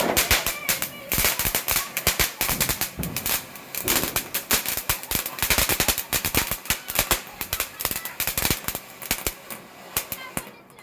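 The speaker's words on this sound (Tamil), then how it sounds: "அடுத்தது நம்ம இந்த டிக்டாக் வெடி வைப்போம்" Rapid string of sharp Diwali firecracker bangs crackling continuously, dense and loud, with irregular bursts overlapping throughout.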